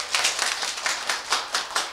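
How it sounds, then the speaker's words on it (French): Applause from a small audience in a Radio Côte d'Ivoire studio, steady overlapping claps with a few sharper accents, close and fairly loud throughout, no talking. "Je voulais entendre des applaudissements encore"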